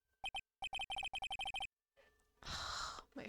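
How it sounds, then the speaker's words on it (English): A phone rings in rapid repeated electronic trill bursts, loud and close, then falls silent and is followed by a breathy, noisy exhale. "My phone needs to shut up."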